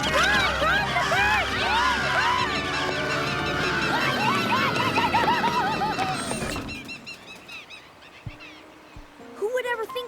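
Cartoon birds honking in a flock around a bus: a loud, crowded chorus of overlapping goose-like honks for several seconds, then a sudden cut to quieter scattered calls and sound effects.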